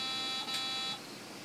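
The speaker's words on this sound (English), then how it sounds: "for it to beep because it has a piezo buzzer in the side of it" A Roomba robot vacuum's built-in piezo buzzer, driven by an Arduino from a Wii Nunchuck, gives a steady shrill electronic tone that holds for about a second, then cuts down to a quieter level.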